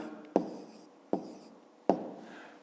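Handwriting as numbers are written out for a fifth-grade maths exercise: three sharp, close stroke or tap sounds spaced evenly, each fading quickly, with quiet between them.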